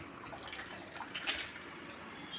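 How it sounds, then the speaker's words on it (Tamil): Water splashes and sloshes gently as dried fish is rinsed by hand, soft liquid swishing and drips, close by, with no talking. "இது நல்லா தண்ணியை ஊற்றி நல்லா அலசிக்கணும்ப்பா"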